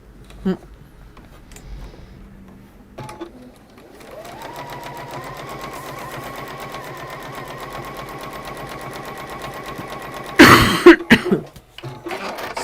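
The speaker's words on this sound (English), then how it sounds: "Coughing away." A single loud cough bursts out over the steady whir of a running sewing machine, followed by a couple of smaller coughs.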